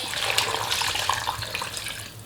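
Water poured from a tap into a cooking pot of pork hock and cabbage, a steady close broadband splash and trickle running throughout at a fairly even level, with no talking.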